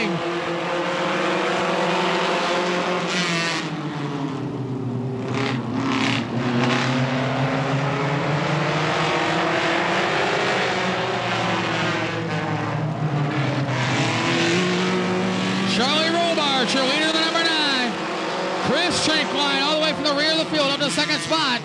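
Race cars roar around a dirt speedway at Tri City Motor Speedway in 2003 after the green flag, engines droning loud and continuous with rising and falling pitch as cars pass, under an excited announcer's commentary.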